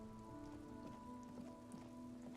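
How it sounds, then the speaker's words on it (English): Steady rain falls in the video game Disco Elysium, a continuous even patter across the whole stretch with a faint low hum beneath and no voices. "It's raining again."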